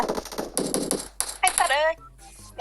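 Automatic gunfire in PUBG Mobile comes in rapid, loud bursts of shots through the first half, then a voice exclaims and a few short electronic tones follow.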